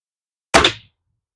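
A single sharp thunk of an airgun pellet striking a target outdoors in winter, loud and close, with a brief decay and nothing else around it.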